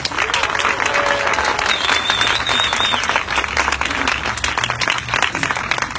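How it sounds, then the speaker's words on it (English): Audience applause at a tribute for Dr. Percy Julian honoring students and their teacher for a mural, a dense, steady burst of many hands clapping that fills the whole stretch at close range, with murmured voices mixed in. "Let's give the students and Mr. Van Dynen a round of applause"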